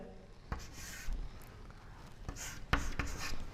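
Chalk or marker scratching across a board in a maths lecture, brief strokes and taps at an even pace, close and fairly quiet with no talking.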